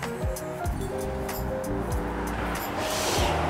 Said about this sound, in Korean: 여기가 대로변 옆이라 조금 시끄러울 수 있는데 차소리가 좀 많이 나요